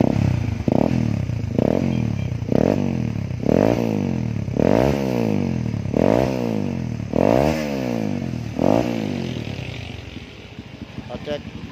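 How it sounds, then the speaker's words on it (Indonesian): Honda CB150R motorcycle fitted with a Ninja 250R exhaust revving hard, about eight sharp rising-and-falling throttle blips in steady rhythm, loud and close, with people talking faintly beneath. "Yuk kita cek yuk suaranya yuk sebelum maghrib ya."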